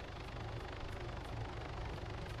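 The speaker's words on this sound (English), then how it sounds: "Chopper." A helicopter in a video game flies overhead, a steady droning rotor hum with faint rhythmic chopping, fairly quiet and continuous throughout with no talking.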